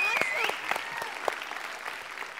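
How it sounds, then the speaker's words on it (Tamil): Loud applause bursts from a studio audience on a Tamil television game show stage, a dense wash of clapping that holds steady for a couple of seconds, opening with a sharp rising whistle. "ஒரு பலத்த கரகோஷம் கொடுத்துடலாம்"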